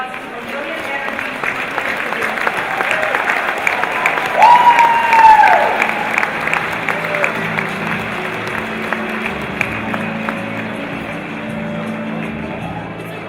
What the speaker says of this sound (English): let's give a warm round of applause to Vermilion Energy